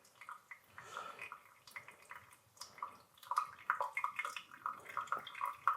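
Water poured over coffee grounds in a home pour-over brew, aimed at the center for the final pour: a soft, steady trickle and gentle splashing with faint drips, quiet and close.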